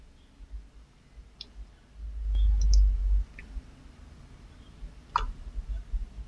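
Mouse clicks launching a vulnerability scan in Qualys software: a few sharp, quiet clicks scattered over a low background hum, with a brief thud in the middle.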